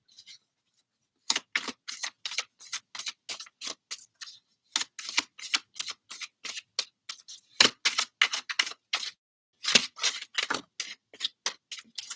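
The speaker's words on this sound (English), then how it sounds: "I'm going to keep shuffling." Crisp, rapid flicking and riffling of tarot cards being shuffled, in irregular bursts and short runs with brief pauses, close and fairly quiet, no talking.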